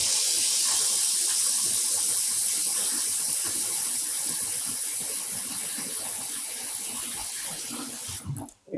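Tap water runs steadily into a sink while dyed embroidery yarn is rinsed, a continuous broadband splashing rush that stays loud and close before cutting off abruptly near the end.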